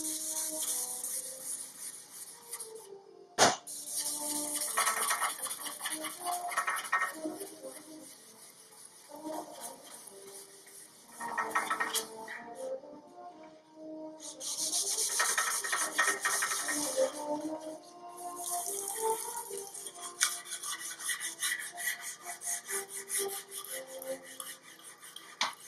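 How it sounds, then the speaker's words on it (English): A Scotch-Brite pad scuffing a surface during subassembly prep, heard as steady close rubbing strokes in long, rhythmic passes with brief pauses and a sharp knock early on. "You'll notice that the Scotch-Brite really kind of helps to even it all out."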